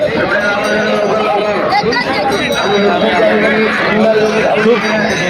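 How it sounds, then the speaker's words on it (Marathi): Dense crowd chatter at a Shankar Pat bullock cart race in Talegaon Dashasar, with many voices overlapping in a loud, continuous hubbub close around. Someone speaks nearby. "खूप जास्त पब्लिक आहे आज"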